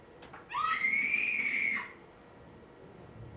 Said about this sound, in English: These are going to be women screaming because they do a lot of screaming.